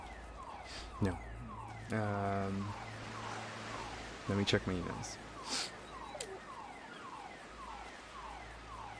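A car alarm wails somewhere outside, its repeating sweeping tones running faintly through the room while people talk nearby over it.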